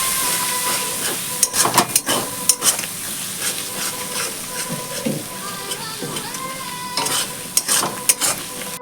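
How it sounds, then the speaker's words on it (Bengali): Spice paste for a jackfruit and prawn curry is stir-fried in a pan, a constant sizzle broken by repeated loud scraping strokes of a spoon against the pan. "এবার ভালো করে মশলাটা কষিয়ে নেব।"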